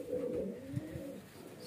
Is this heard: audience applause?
no